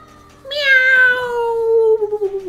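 A cat meows once in Super Mario 3D World, a loud, close, rising and then slowly falling meow that tails off over about two seconds.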